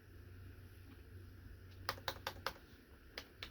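Keystrokes on a computer keyboard while entering a Linux command: a quick run of about five distinct clicks, then two more spaced taps, close and moderately loud over a low steady hum.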